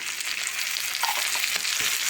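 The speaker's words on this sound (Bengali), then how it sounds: "তেলে একটু নাড়াচাড়া করে নেব।" Raw jackfruit pieces fry in hot oil while being stirred, a close, steady crackling sizzle broken by a few scraping strokes of a spatula against the pan, with no talking.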